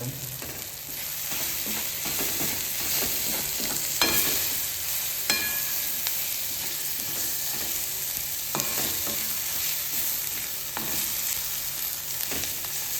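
A tomato gravy with coriander cooking in a pan in a home kitchen, giving a steady sizzling hiss throughout, broken by a few sharp clinks and scrapes of the spoon against the pan as it is stirred.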